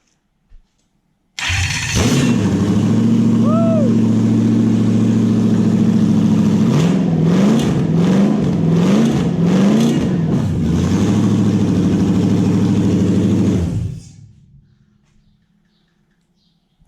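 A Toyota 1UZ-FE V8 fitted in a Massey Ferguson tractor starts up and idles loudly, then revs in a series of quick throttle blips before shutting off and fading out.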